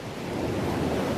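Ocean surf rolling onto a beach in Peru, a loud, continuous rushing wash with wind buffeting the microphone, no voices.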